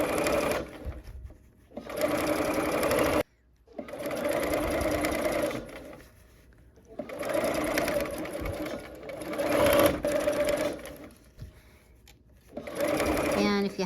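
A sewing machine stitching a Coral Bells quilt block runs in several loud, close bursts of rapid mechanical whirring, separated by short pauses and stops.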